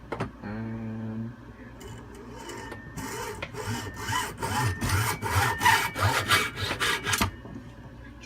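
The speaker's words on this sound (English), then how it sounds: "Alright, this we're just going to use the hacksaw for." A hand hacksaw cuts a short piece for an under-shelf pistol hanger, a series of close, rhythmic rasping back-and-forth strokes that grow louder and faster through the middle before stopping.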